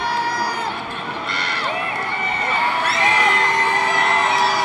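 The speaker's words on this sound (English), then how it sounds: "The crowd's very loud now." A loud basketball arena crowd in Montreal cheers and yells continuously, a dense roar of voices with whistles and whoops rising toward the end.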